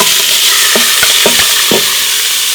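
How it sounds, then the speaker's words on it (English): Chicken sautés in hot oil inside an Instant Pot, giving a loud, continuous sizzle broken by several sharp utensil clinks and scrapes as the pieces are stirred. "You already have that nice sizzle."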